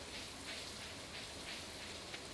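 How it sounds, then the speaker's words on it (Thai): Rain falls steadily in the farming video game Stardew Valley, a soft continuous hiss with faint patter, even and quiet throughout with no talk. "ฝนตกอย่างเยอะนะครับ"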